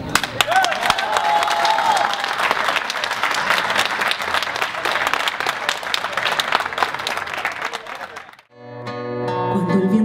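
Sustained audience applause at a benefit gala in Stockholm, dense and steady for most of the stretch with a few scattered whistles, then a brief drop before music swells in.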